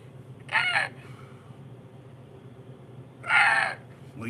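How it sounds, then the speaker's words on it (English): A young hawk gives two sharp, harsh screeching calls a few seconds apart, fairly close, in a bird sanctuary area, over a low outdoor background rumble. "Oh no, it's the baby hawk. It was like, it's a little baby hawk up here."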